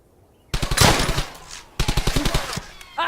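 Machine gun fire in the World War II shooter Brothers in Arms: Hell's Highway, two loud rapid bursts of automatic shots close by, split by a short pause, with a brief third burst starting at the end.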